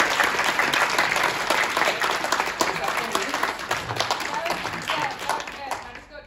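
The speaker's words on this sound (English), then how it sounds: "We should applaud all of them right now, and we should continue to applaud them." Audience applause at a STEM video challenge awards event at PAX Melbourne, a crowd clapping loudly and continuously, the dense patter gradually thinning out and fading near the end, with some voices mixed in.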